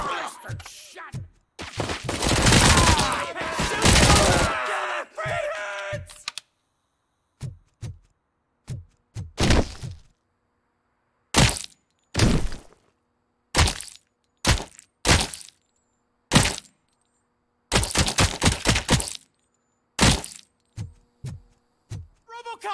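Gunfire in a shootout in RoboCop: Rogue City: a dense burst of shots, then many sharp, separate cracks in short clusters with silent gaps between, loud and close, with some voices in between.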